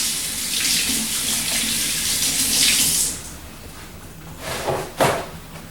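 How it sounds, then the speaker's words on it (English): Hands rinsed under a running kitchen tap while preparing orange beef, a steady close rush of water for about three seconds, then the flow stops and a couple of brief splashes and knocks follow. "let me rinse my hands off here"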